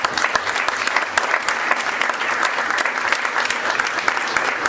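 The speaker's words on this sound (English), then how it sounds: "so we give them a big round of applause," A room of guests at a 2018 economy luncheon claps steadily, a dense, even round of applause at moderate loudness with no talking over it.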